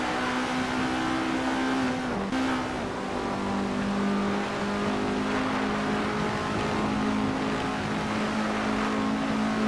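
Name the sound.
Estonia 21-1600 race car engine, racing video game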